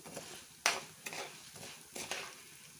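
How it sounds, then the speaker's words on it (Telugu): Urad dal frying in a pan for coriander chutney, heard as faint soft sizzling punctuated by a few sharp clinks and scrapes of a spoon stirring against the pan. "వేగుతున్నాయండి బాగా మినపప్పు బాగా వేగుతుంది"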